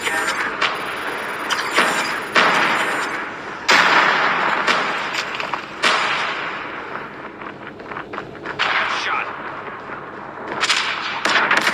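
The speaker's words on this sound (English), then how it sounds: "hostile predator missile inbound" Predator missile strike in Call of Duty Mobile, a run of loud, close blasts and sharp cracking bangs arriving in bursts with rumbling tails, mixed with busy game effects.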